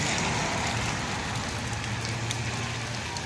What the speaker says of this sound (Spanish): Lluvias en Siloé, lluvias en Cali